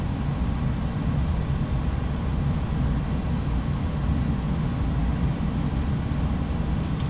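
A loud, steady roar from an iniBuilds A300 BelugaST decelerating on landing in X-Plane 11, with reversers deployed, holds at an even, broadband level throughout with no speech.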